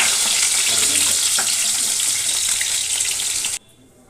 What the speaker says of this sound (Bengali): পাবদা মাছটা আমার একটা পিঠ ভাজা হয়ে গেছে।